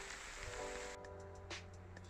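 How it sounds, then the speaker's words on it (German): Steady rain hisses softly outdoors during a long-distance hike, a faint, even wash of drops with a few slightly sharper patters. No one speaks. "dazu muss der Regen aufhören, sonst wird es einfach mühsam"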